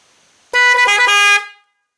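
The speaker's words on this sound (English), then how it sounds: "So I have 6 of these horns to install" A loud car horn, driven by an Arduino controller, blares in a quick programmed pattern of short stuttering blasts, then holds and cuts off, close by.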